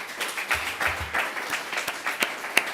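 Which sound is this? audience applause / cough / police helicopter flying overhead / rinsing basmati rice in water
audience applause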